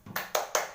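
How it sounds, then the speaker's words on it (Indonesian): A classroom of pupils doing a rhythmic spirit clap: a short burst of three sharp, synchronized group claps spaced evenly, close and clear with no talk. "mari kita tepuk tangan semangat ya"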